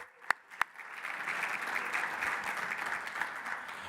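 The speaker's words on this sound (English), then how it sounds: "Round of applause for Jane again." Applause at an annual meeting business session: two sharp lone claps, then a steady, moderately distant wash of many hands clapping from the assembled audience.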